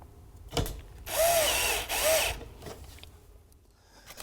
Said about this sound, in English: Then fix the panel using screws.